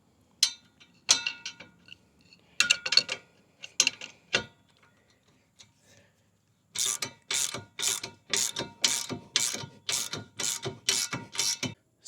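A wrench tightening a 24mm bolt and lock nut on an e-bike hitch rack, close ratcheting clicks in short bursts, then a long run of rapid, evenly repeated ratchet strokes.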